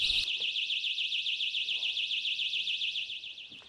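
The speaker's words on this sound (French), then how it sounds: "on entend l'alarme." A safety alarm set off by a hard pull on a hanging panel sounds a loud, steady warbling electronic tone that pulses rapidly and continuously, close by and alone, fading slightly at the end.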